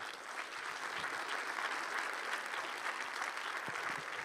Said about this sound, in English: Could we give a round of applause for these people here?